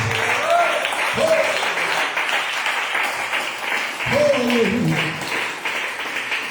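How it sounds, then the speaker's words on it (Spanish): A church congregation applauds steadily throughout, a dense wash of clapping with a voice briefly rising over it. "Denle un aplauso fuerte en esta mañana."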